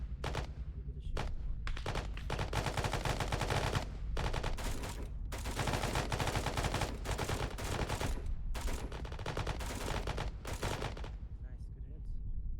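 Machine gun firing in a military video game during a position defense drill, long loud rapid bursts broken by brief pauses and near the listener, with voice chat mixed in at moments.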